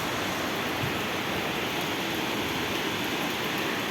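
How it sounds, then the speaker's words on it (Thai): Light rain around a 2023 Nissan Almera makes a dense, unbroken hiss that stays flat and steady throughout, with no voices. "ก็อาจจะมีแซมเสียงฝนเล็กน้อยนะครับ"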